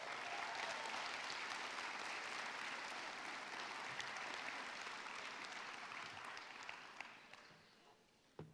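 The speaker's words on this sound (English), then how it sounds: "Graduates, can you please give those who support you a big round of applause?" A high school graduation audience at a College Park High School commencement ceremony breaks into a big, sustained round of applause that fills the hall, then gradually fades out near the end.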